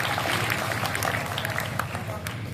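Applause from the audience at a large Hindi kavi sammelan (poetry gathering) in Sojat, a dense steady clatter of many hands that carries loud and unbroken for a couple of seconds.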